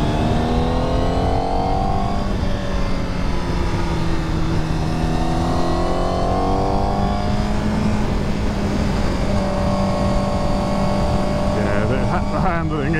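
A Yamaha R1 sportbike rides along a hill road with a steady engine drone and rising and falling revs that shift with each gear change. The bike stays close and constant throughout the ride, and a voice can be heard talking faintly underneath.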